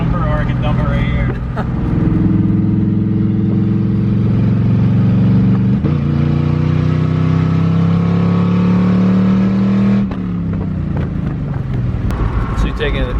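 A 6.0 V8 S10 drag truck revs its engine with the exhaust cutouts dumped, giving a loud, continuous rumbling roar that climbs and settles over several throttle blips, with people talking over it.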